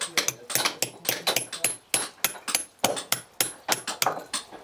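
Hammer and chisel ring against a limestone block as a stonemason shapes it at a medieval castle building site, giving a quick rhythmic run of sharp, close metallic strikes with brief gaps.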